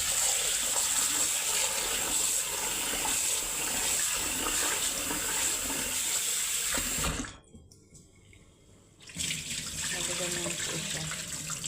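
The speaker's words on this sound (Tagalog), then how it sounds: "So, una po sa lahat ay huhugasan natin itong chana dal. Hugasan lang po natin ng maigi." Split chickpeas (chana dal) rinsed under a running kitchen tap, a steady loud gush of water into the sink that cuts off briefly near the end, leaving near silence, then resumes.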